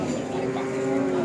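A cow moos in one long, sustained low call at a cattle market in Tuban, loud and close against a busy background of crowd noise.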